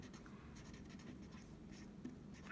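Soft, steady scratching of a pen or marker moving across paper, close and quiet, with no voices.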